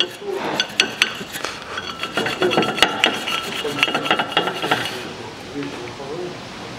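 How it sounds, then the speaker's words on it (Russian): Brake caliper slide guides on a 2001 Toyota Vitz SCP10 are scrubbed clean, giving close scraping and rubbing strokes with faint metallic clinks in a quiet workspace. "Направляющие под пружинки тоже вычищаю."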